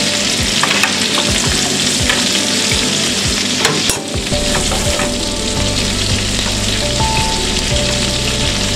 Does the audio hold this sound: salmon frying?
yes